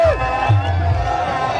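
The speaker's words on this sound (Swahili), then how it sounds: "Makofi kwa mama." A crowd cheers and whoops at an outdoor opposition political rally in Kisii as a mother is honoured with a gift basket, steady loud hubbub with tonal background hum and voices mixed in.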